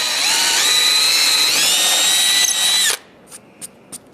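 A power drill bores a hole through a wooden top clamped in a vise, a loud, steady high whine lasting about three seconds before cutting off abruptly, followed by a few faint brief knocks.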